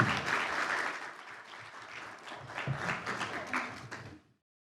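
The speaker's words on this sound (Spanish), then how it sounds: "nuevamente un aplauso para despedir aquí a nuestra" Applause from a conference plenary audience, sustained dense clapping in a large ballroom that rises and falls in waves before cutting off abruptly into silence near the end.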